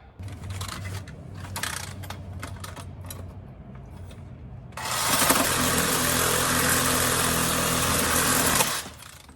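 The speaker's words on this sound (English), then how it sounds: "So let me get the grinding on this." A broken shock mount on a Suzuki Samurai is ground down: after a few short intermittent bursts, a loud, harsh, continuous metal-grinding screech runs for about four seconds, then cuts off.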